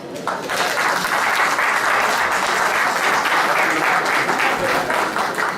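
An audience at the Abidjan Innova 2018 international inventions fair applauding together, dense, sustained clapping from a large crowd, loud and continuous from start to finish.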